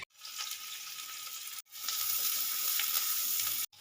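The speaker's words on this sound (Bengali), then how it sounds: "তেলটা গরম হয়ে গেছে এবারে দিয়ে দেবো এখানে একটা বড় সাইজের পেঁয়াজ কুচিয়ে রেখেছি দিয়ে দেবো পেঁয়াজ" A large chopped onion hits hot mustard oil while fish cutlets are being made, giving a loud, steady close-up sizzle that cuts out briefly twice, then resumes with the same crackling hiss.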